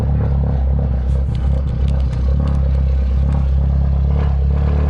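An R56 Mini Cooper S with a TurboSmart blow-off valve runs at idle, its exhaust giving a steady, loud, close drone with light clattering over the top and no talking.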